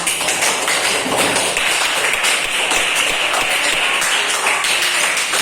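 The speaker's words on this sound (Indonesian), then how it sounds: "kasih tepuk tangan sebelah sana" Sustained applause from a classroom of students clapping for a group of classmates, dense and loud throughout, a steady wash of many hands close by with no pauses.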